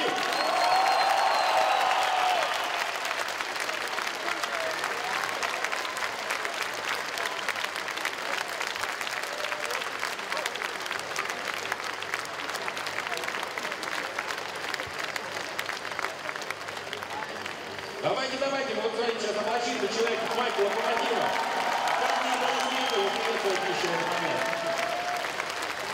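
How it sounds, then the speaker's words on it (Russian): A hockey arena crowd applauds in a long, dense, steady ovation for a former Olympic and world championship medalist, lasting the whole stretch and swelling briefly near the end with some cheering. "Еще раз давайте вступаем в овации, пусть Стефан почувствует, как у нас любят хоккей"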